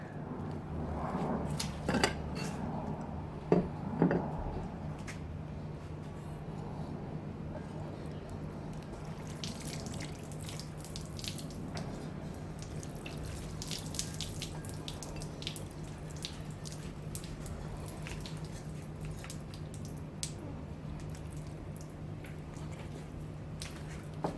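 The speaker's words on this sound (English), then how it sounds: "slowly pour some on the one side of the tank" Hot water poured slowly onto the side of a propane tank, a steady running, splashing trickle with a few drips and squishy spatters that holds on for the whole stretch, close by and moderately loud, over a low constant hum.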